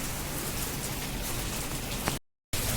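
Steady rain falling on surfaces in the wake of a hailstorm, a dense continuous hiss close by with no voices, broken by a brief gap of near silence before the downpour resumes.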